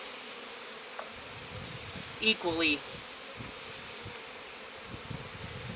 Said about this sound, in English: Now I'm going to give it a couple extra frames of bees, a few shakes of bees.